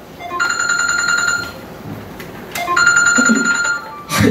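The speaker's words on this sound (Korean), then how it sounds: "균아, 전화 좀 받아라. 제발." A telephone rings in two long bursts of bright electronic trilling, loud and close, separated by a short quiet gap, with no talk over it.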